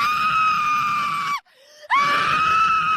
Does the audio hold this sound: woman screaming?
yes